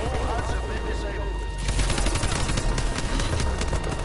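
Video game gunfire from a 1911 pistol mixed with heavier bursts, a rapid dense volley of sharp shots starting partway through and continuing loud and close after a quieter stretch.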